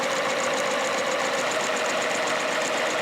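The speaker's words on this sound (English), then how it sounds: "Start sewing" A Juki Haruka TL-18 sewing machine runs a steady, continuous high-speed stitch while sewing a quarter inch seam, its motor whirring close and even with a fast rhythmic needle chatter throughout.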